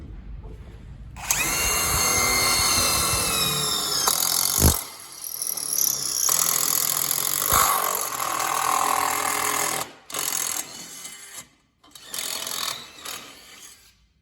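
A Panasonic impact drill bores a 4 mm hole through a 2 mm metal profile, its loud whining motor running steadily for several seconds with brief pauses and stops.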